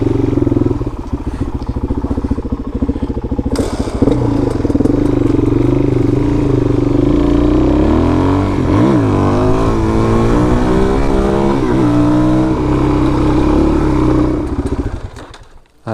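KTM 300 and DRZ400 dirt bikes ridden on trails, with a loud, continuous engine drone close up, revving and shifting pitch, overlaid with wind buffeting and rattle before fading at the end.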